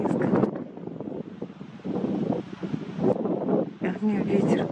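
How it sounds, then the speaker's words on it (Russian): Gusty wind outdoors shakes the camera and buffets the microphone with a loud, rumbling roar that surges and drops, while a person talks underneath. "А мне ветер даже шатает камеру."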